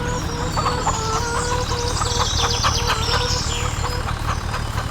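Chickens clucking in the Farming Simulator 25 video game, a dense steady chorus of overlapping clucks and squawks from a flock close by, with an occasional crow and a low mechanical hum underneath.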